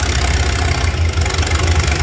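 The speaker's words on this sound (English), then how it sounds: "I believe that is the same tractor." A Super M farm tractor at a county fair tractor pull, its engine running steadily with a loud, heavy low rumble and a continuous mechanical roar close by.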